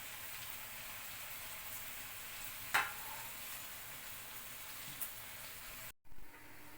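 Second batch of farali dahi vada frying in hot oil, a steady close sizzle and crackle throughout, with a few light clinks of a utensil before a brief cut near the end.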